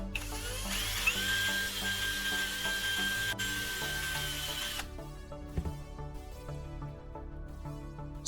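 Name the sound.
drilling a hole in a tin can lid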